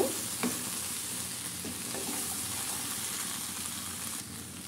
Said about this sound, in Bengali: বেগুনগুলো দিয়ে দেব। তারপর একটু নাড়াচাড়া করে নিব।